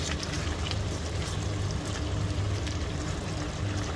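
A raw mango stir-fry simmers on a high flame as its water boils off, producing a steady close bubbling, hissing sizzle with no speech.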